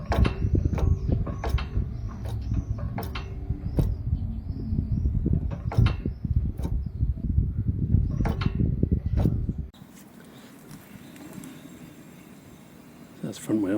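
Land Rover Defender front wheel bearing, slightly notchy but without play, is turned by hand, giving repeated rhythmic clicks and mechanical creaks for several seconds before dropping to a quieter hum.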